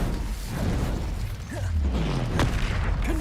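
Incendio, a fire spell from Hogwarts Legacy, cast with a booming burst and a short whooshing blast. Mechanical clatter surrounds it, and there is no talk.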